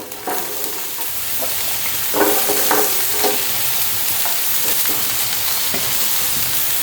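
Steady sizzling of leeks sautéing in hot oil, with intermittent scraping and stirring clatter from a spatula, close and fairly loud.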